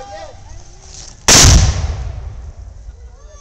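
A historical Texas militia cannon fires one loud, sudden boom at a Pioneer Day event in a park, then the blast rumbles and decays over a couple of seconds amid faint outdoor background sound.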